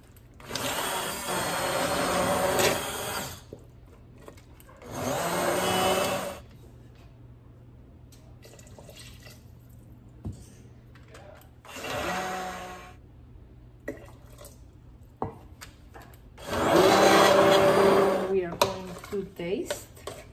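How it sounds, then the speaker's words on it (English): An immersion blender whirs through spiced carrot soup in a pot in four loud bursts of a few seconds each, separated by quieter pauses with faint clinks and handling sounds. "Time to use your immersion blender."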